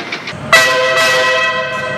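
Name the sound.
train passing and sounding its horn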